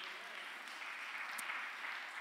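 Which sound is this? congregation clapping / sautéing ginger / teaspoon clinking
congregation clapping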